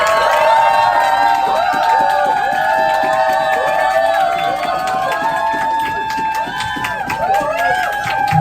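An audience at a Nu Skin group meeting greets a company leader coming to the front; a loud, lively crowd with cheering, whoops and shouts layered over clapping, sustained throughout.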